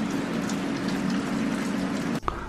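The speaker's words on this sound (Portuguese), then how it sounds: "Olha o barulhinho de chuvinha lá fora. Começou uma chuva agora à noite." Light rain falling outside at night, a steady soft hiss with a low hum underneath that cuts off abruptly near the end, followed by a brief knock.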